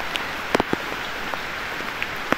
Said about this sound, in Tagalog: first time ko ulit maligo sa ulan